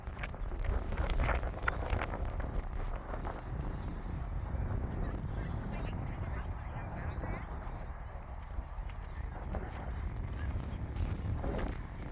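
Wind sweeps across a tulip farm at Lower Drayton in England, buffeting the microphone with a steady low rumble and occasional stronger gusts while people talk nearby.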